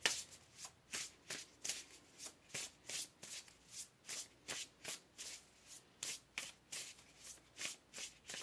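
A deck of tarot cards is shuffled over and over, a steady run of crisp riffling bursts repeating about every half second, close and fairly quiet with no talking.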